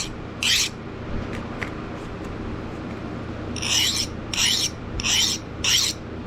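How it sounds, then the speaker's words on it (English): A file skates across a hardened, tempered steel skinning knife blade: one short rasping stroke, then a quick run of four evenly spaced strokes, close and crisp over quiet room noise. "If we got it right, that file shouldn't cut. It should just skate right across."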